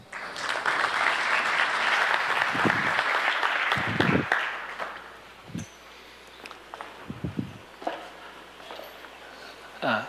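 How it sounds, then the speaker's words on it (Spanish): Audience applauding to welcome a speaker onto the stage at a talk on skyscrapers, dense clapping for about four seconds that thins into scattered claps, footsteps and rustling as it dies away. "Lo invitamos al escenario y lo recibimos con un caluroso aplauso."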